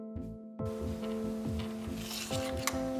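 Rubbing and scraping as the area under the cutting blades of a Husqvarna Automower robotic lawn mower is cleaned, a close, steady rasp with rhythmic strokes over a sustained hum.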